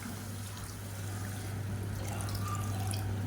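Hot water pours steadily from a tumbler into a pot of soaked jeeraga samba rice for biryani, a continuous close splashing stream with no talk.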